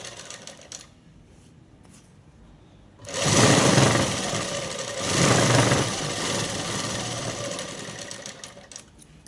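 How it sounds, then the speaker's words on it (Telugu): A sewing machine stitching cloth for a dress runs in two strong bursts after a quiet start, a steady loud whir close by with no talking. "ఇలా క్లాత్ను పెట్టేసి కుట్టు అనేది వేసేసుకోవాలి."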